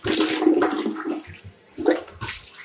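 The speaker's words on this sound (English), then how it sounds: "Flush it twice." Household toilet flushing, a loud gushing rush of water that fades, then a second surge of swirling water starting a moment later, with no voices.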